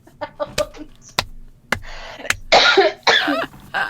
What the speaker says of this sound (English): please don't make me laugh too much. It makes me cough.